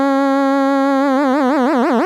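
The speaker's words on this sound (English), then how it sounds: "we get some nice laser beam sounds with the depth all the way up" Analog VCO synth tone modulated by an LFO at full depth, starting as a steady buzzy note, then swooping up and down in a wobbling, sci-fi laser-beam warble that grows wider and faster toward the end, loud and alone.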